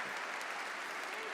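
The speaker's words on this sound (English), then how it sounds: "a big applause from my wonderful volunteer" Audience applause for a volunteer at a science talk, a steady wash of clapping that fills the short moment with no speech over it.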